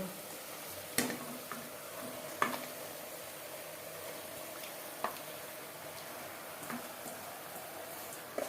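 Marinated mutton fries with softened onion and tomato for a restaurant-style mutton curry, a faint, steady sizzle broken by a few sharp spatula clinks against the pan, close by and without talk.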